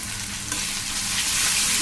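Pomfret fish frying in hot oil with turmeric powder and salt, a loud, steady sizzle that builds slightly and runs continuously without any voices.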